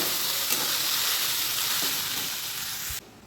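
Desi-style fried rice with vegetables sizzling in a pan: a steady, loud frying hiss with faint stirring knocks that cuts off near the end.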